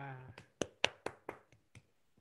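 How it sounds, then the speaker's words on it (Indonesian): Several sharp, separate hand claps ring out in an indoor early-childhood educator training session in Blitar, following a short stretch of voice at the start and fading to quiet at the end. "aplaus untuk kita semua"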